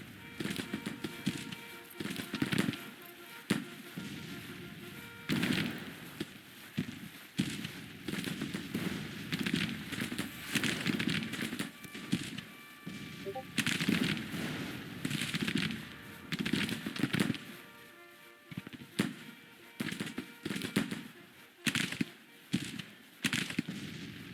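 Civil War battle in a strategy video game, with bursts of musket gunfire and distant booming artillery that rise and fall irregularly over a long stretch, heard alone without talk.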